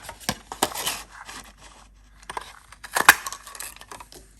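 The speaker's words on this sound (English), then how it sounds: "So let's cut out an oval from this." Scissors cut an oval from a book page, giving soft scattered snips and paper scrapes close by, with sharper clicks in small irregular clusters.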